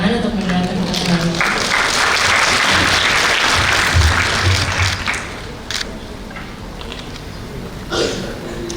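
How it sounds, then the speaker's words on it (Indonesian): Loud, close applause for the moderator at a youth and sustainable development talk, with a dense burst of clapping peaking midway, while voices and stray noises mingle in before it thins out. "Mari kita beri tepuk tangan untuk moderator kita kembali."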